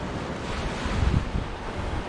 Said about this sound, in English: with the waves coming in like that, it's like a natural little whirlpool